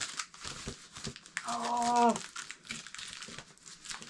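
Packaging of a returned, undelivered UK mail parcel being opened, close crinkling and tearing of wrapping with a brief louder rip midway, a person speaking briefly.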